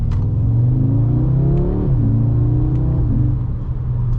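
A 2023 Audi S3 Premium Plus with a DSG transmission, in dynamic mode and held in second gear with the paddle shifters, accelerates hard. The loud, steady engine drone rises in pitch continuously with no voices.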